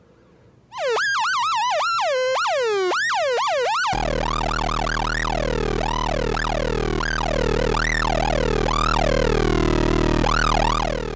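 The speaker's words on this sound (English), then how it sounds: "that's the sound of just one of those oscillators being modulated." Synthrotek Chaos NAND modular synth oscillator being modulated, sweeping and chirping in rapid swooping glides that rise and fall like a siren, loud and continuous, joined after a few seconds by a steady low drone underneath.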